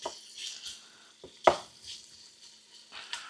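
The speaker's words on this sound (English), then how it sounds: "let's stir that up some" Cheddar cheese soup ingredients are stirred in a pot, with a few soft scrapes and one sharper clink of utensil on metal against a faint sizzle, close and quiet.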